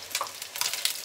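Celeriac fries crackle in hot fat during their second frying bath, a brief burst of bright, busy spitting and popping sizzle.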